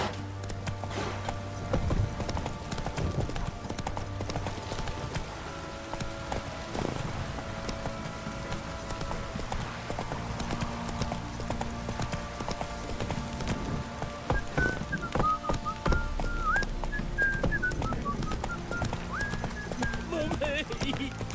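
Hooves of Geralt's horse Roach in The Witcher 3 clip-clop at a quick, rhythmic pace over a rainy patter, with someone talking over much of it and a faint whinny.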